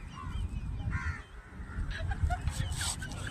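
A crow caws several times in short harsh calls over a busy, noisy background with low rumbling and mixed outdoor sounds.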